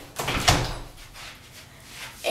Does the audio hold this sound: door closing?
yes